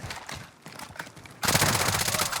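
Gunfire in the Warzone battle royale game, scattered distant shots first, then a sudden loud sustained burst of rapid automatic fire in the second half.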